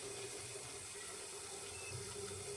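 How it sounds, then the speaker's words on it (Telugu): Tamarind-soaked water pours into a cooking pot in a steady, continuous stream, with no talking. "ఇందులో ఇంతకుముందు చింతపండు నానబెట్టిన వాటర్ ఇందులో పోసుకోవాలి"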